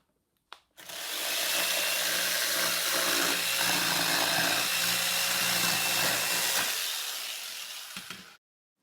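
A power saw starts up and cuts through wood in one long, loud, steady whine for about seven seconds, then stops abruptly.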